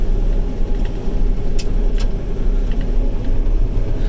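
A Fendt Ideal 9 combine harvester cuts chickpeas at about four miles an hour, giving a steady heavy engine drone with a low rumble and a couple of short, sharp clicks, with no talking.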